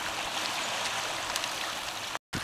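The Knife River runs fast with melting ice and ice jams, a steady close rush of moving water with faint gurgles throughout, broken by a brief silent gap near the end.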